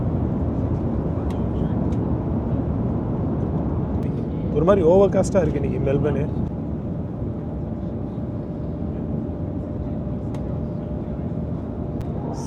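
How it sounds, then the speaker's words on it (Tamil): An Airbus A350 airliner sits on the runway at Melbourne before takeoff, its steady low engine and cabin roar filling the background while someone talks briefly over it. "அவ்வளோதாங்க, டேக் ஆஃப் ஆக போகுதுங்க ஃப்ளைட்டு."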